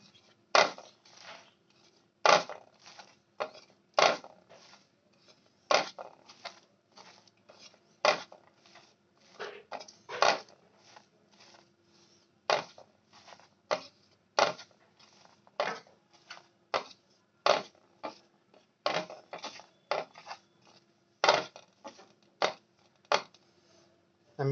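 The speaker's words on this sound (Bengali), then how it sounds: "এবার আমি এগুলোকে ভালো করে চটকে মেখে নেব।" Chopped onion, green chilli and coriander with salt being mashed and kneaded by hand, giving a steady run of soft, wet squelching and tapping pulses, close and quiet.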